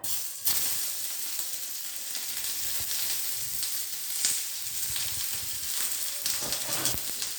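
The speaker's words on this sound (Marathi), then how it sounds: "हे ताव्यावर थोडं तेल टाकलं याच्यामध्ये हा कांदा टाकायचा आहे बघा" Onion sizzling in a little oil on a hot griddle, a steady dense crackle running throughout with occasional sharper pops as pieces hit the pan, close and fairly loud.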